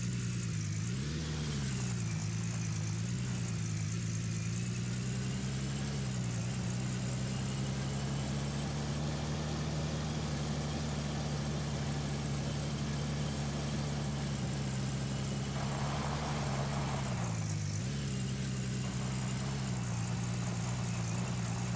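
Steady truck engine idling in the Gold Mining Simulator video game, a low continuous rumble with a brief dip in pitch partway through, heard alone with no talk.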